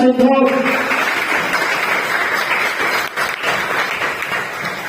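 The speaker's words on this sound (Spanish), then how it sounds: "Aplauso por el Señor." Applause from a Spanish-speaking church congregation during a sermon, a dense, steady wash of clapping that fills the room from start to finish, with a brief voice heard at the very beginning.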